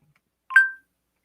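A phone gives off a single short electronic tone, a brief, clean beep rising out of near silence and fading quickly, alone.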